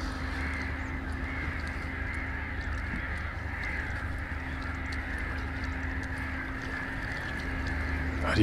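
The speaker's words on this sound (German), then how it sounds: "Die Vögel blären auch was zusammen." Birds along a natural riverbank on the Inn call in a mix of crow-like caws and duck quacks. The calls sit in the distance over a steady hum and rushing background noise.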